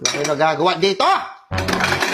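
Pots and kitchen utensils clatter and clink to the floor after slipping from a hand, a sudden loud burst that follows a shouting voice.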